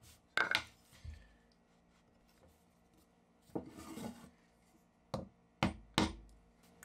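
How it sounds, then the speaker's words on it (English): Sharp, sparse taps of a light mallet on a chisel cutting hand-made wood dovetails. Several isolated knocks arrive at irregular intervals, some in quick pairs, with quiet scraping between them in an otherwise quiet workshop. "Just light taps with the mallet."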